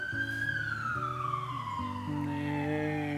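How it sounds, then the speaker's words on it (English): A siren wails in the distance, its tone sliding slowly downward as it passes, over a steady hum of background noise. "You hear the siren?"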